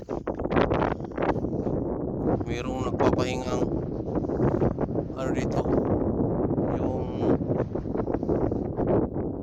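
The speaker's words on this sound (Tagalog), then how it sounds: "Lakas ng hangin mga kaidol. Muntik matumba ang ating kamera mga kaidol. Lakas ng hangin." Strong wind buffets the microphone in heavy rumbling gusts, while someone talks through the roaring noise.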